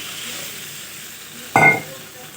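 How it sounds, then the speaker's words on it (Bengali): Water splashed into a pan of frying potato curry, a brief loud hiss that bursts out sharply and fades within half a second over a quiet background. "একটু জল দিয়ে দিই ধরো দিয়ে দিলাম"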